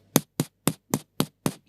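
A beatboxer's mouth imitates a kick drum with six evenly spaced, punchy thumps at a steady pulse, close and dry, with no talking between the hits.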